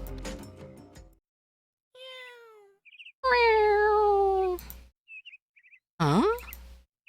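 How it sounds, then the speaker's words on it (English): A video game cat meows in several drawn-out, rising and falling calls, loud and close, between bright chirpy game effects and short pauses. "What woke me up was not the alarm that's set for 7 a.m., but the sound of a cat?"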